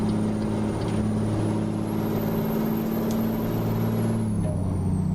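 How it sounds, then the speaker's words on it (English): Cummins ISX truck engine in American Truck Simulator drones steadily at close range with a high, rising then falling turbo whistle over the deep rumble, and a brief air hiss near the end. "you can really hear that turbo in this truck engine too"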